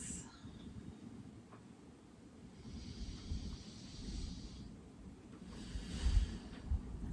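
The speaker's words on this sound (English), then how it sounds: "Take another few breaths." Slow, deep breaths during a yoga session, several soft drawn-out inhales and exhales with a faint airy hiss, close and quiet with no talking.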